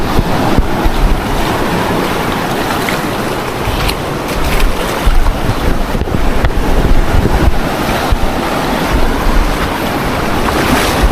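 Heavy surf pounds and rolls without pause, loud and close, with gusts of wind rumbling across the microphone and swelling louder midway through.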